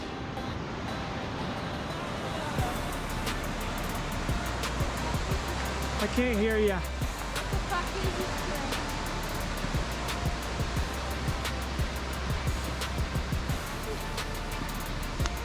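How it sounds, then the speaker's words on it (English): A loud, steady rush of a waterfall in Cascade Canyon, Grand Teton, fills the scene as broadband roar, with hikers talking briefly over it. "There's a fucking rushing waterfall."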